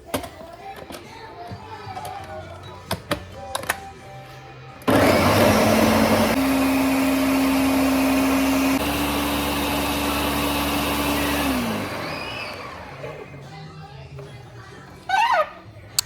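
A blender roars loudly for several seconds while making cassava fufu, its motor pitch shifting partway through, then spins down, with quieter clinks and handling before and after.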